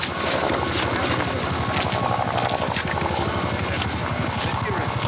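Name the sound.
distant helicopter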